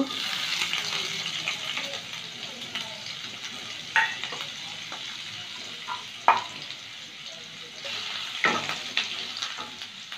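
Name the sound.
chopped garlic frying in white oil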